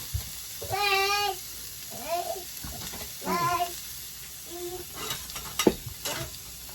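Shrimp searing in a hot pan give a steady sizzle, with several clinks and scrapes of tossing and a few tonal, voice-like sounds mixed in.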